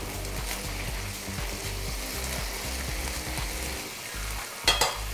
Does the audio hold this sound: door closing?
no